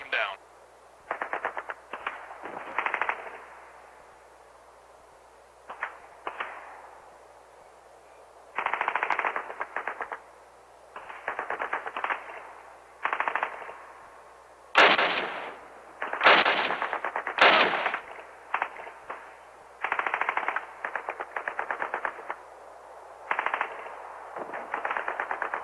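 Rifle gunfire from Call of Duty on the Nokia N-Gage handheld, repeated bursts of tinny, compressed shots in clusters with short gaps, growing denser and louder midway through.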